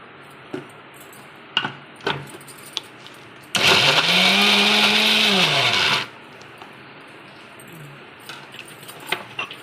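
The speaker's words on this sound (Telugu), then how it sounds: "ఒక్కసారి దీన్ని మిక్సీ పట్టుకుందాం." A kitchen mixer grinder blends tomato and raw onion for tomato pachadi in one loud burst of a couple of seconds, its motor pitch rising and then falling, with quiet clinks and handling noises before and after.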